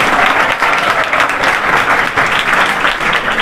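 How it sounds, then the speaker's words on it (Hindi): Loud, sustained applause from an audience at a school opening ceremony in Haryana, greeting a visiting teacher; dense clapping fills the whole stretch with a steady, even roar. "कमल सर को एक बार जोरदार तालियां हो जाए।"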